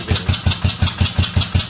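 A 1984 Honda Shadow 700 motorcycle engine runs close and loud after ignition repairs, with a regular, pulsing chug of about five beats per second.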